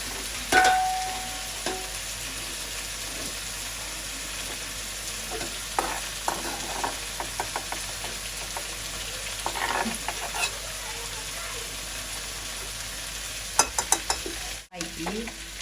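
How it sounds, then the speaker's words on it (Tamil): Bitter gourd frying in a pan, a steady close sizzle of hot oil throughout with intermittent scraping and stirring clatters from a utensil. "இந்த பாவக்காய் வந்து நல்ல சாதுவாக பொறிஞ்சிருக்கு"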